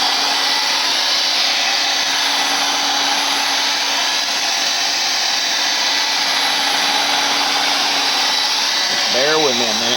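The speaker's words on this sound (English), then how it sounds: "we're going to bring in the hair dryer" A hair dryer runs on high over spray paint art, a loud continuous close whooshing blow that holds steady throughout, with a brief wavering tone near the end.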